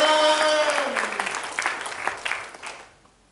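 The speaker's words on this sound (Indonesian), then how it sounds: "Tepuk tangan bagi Tuhan." A church congregation claps during a sermon, the applause trailing off into scattered claps and fading to near silence, while a sustained tone from the start slides downward and dies away early.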